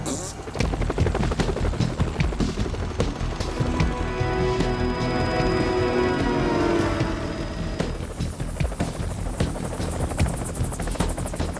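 A helicopter's rotor chops loud and steady throughout, a fast rhythmic thudding with engine whine, close by.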